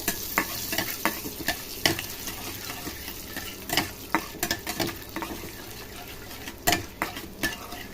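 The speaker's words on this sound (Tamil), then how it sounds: "இப்போ வந்து சுண்டக்காவத்தில் எண்ணெயில் போட்டு வதக்கி கொஞ்சம் எடுத்துக்கோங்க" Dried turkey berries sautéing in oil in a pan, a continuous close sizzle broken by scraping stirs and sharp clinks at an irregular pace.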